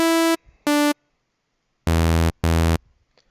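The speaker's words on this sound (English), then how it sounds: "simple saw wave." Four bright, buzzy plain saw wave synth tones from Serum in two pairs: two short higher notes, a pause, then two lower, fuller notes, each cut off abruptly.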